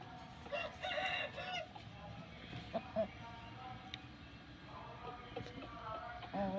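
An Asil rooster on an Asil breeding farm crows loudly with a drawn-out call, followed by scattered clucks and sharp calls, while people talk nearby over outdoor farm noise.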